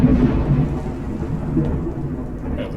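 In Skyrim, a thunderstorm rages beyond a cave, deep continuous thunder rumbling loudly over a hiss of rain, without any speech.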